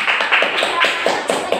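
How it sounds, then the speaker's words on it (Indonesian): Classroom clapping for a student group in a fifth-grade elementary lesson: a short burst of brisk, repeated hand claps, fairly loud and close, with several hands together and no talk. "Tepuk tangan untuk kelompok 2"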